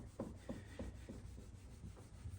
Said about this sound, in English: So I'm polishing this way to take the peaks off, to take the heads off of the scratches.